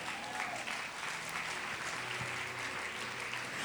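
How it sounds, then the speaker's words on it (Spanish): A church congregation applauds during a sermon, a steady wash of clapping heard somewhat distant and soft, with faint background tones. "Si lo va a aplaudir, apláudalo."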